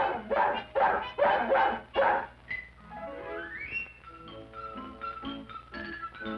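A cartoon dog barks in a quick run of loud yaps, then a sliding whistle-like tone and a scatter of short musical cartoon effects follow.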